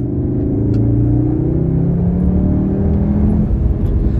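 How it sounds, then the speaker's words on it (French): A Cupra accelerating with an artificial V8 engine note played through its cabin speakers, a steady loud rumbling tone climbing in pitch, heard from inside the car without talk. "Ça sonne vraiment comme un gros V8, mais ça sort uniquement des enceintes."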